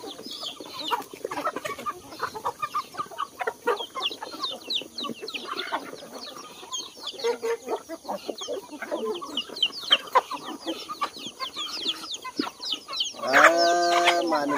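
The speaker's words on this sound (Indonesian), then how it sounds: "Kebanyakan ayam-ayam ni sudah mengeram, jadi kurang." Chickens and roosters cluck continuously and overlap with one another in a garden farm setting, with a closer, louder squawk near the end.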